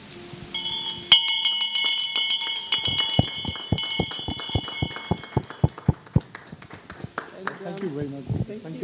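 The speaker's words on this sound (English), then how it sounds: "We'll give you the opportunity to ring the closing bell." Closing bell at the Lusaka Stock Exchange, a bright metallic ringing whose struck tones sustain and then break into rapid repeated clangs that slow and fade, followed by applause and voices.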